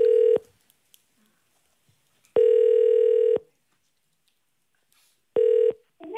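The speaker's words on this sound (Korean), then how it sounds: "자 전화 받아요." Telephone ringback tones during a live radio show call, sounding as three loud, steady beeps separated by long silent gaps.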